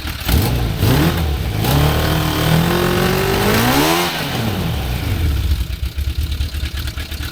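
A quad fitted with a motorcycle engine runs close and loud on choke, its pitch rising and falling through a brief rev before it settles into a rough, uneven idle.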